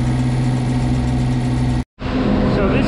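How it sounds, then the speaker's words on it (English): Diesel-powered refrigeration unit on a reefer trailer, a loud steady engine drone with a humming tone, briefly cut off then resuming with a rougher texture, heard close up. "This is a diesel powered reefer trailer."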